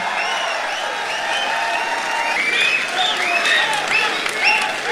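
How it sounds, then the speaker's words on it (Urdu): A crowd at an Urdu poetry recital applauds warmly and steadily, with scattered cheers and whistles rising over the clapping. "زوردار تالیوں سے ان کا استقبال کریں۔"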